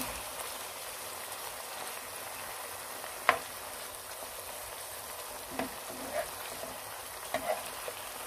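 Fried beef strips for coconut-water dendeng being folded through in a hot pan, a steady low sizzle with a few sharp scrapes and taps of the spatula spaced out, fairly quiet and with no voices.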